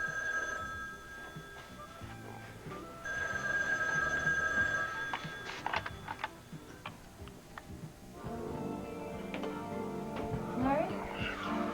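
A telephone rings in a hotel-like room, its repeated trilling bell sounding in steady bursts under people talking and ambient room noise.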